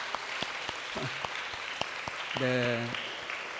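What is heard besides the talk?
church congregation applause welcoming returning sons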